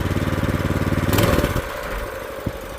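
An old pull-start bike engine that sat for years coughs and putters with a fast rhythmic chug, surges briefly louder, then drops to a rougher, uneven idle close to the microphone.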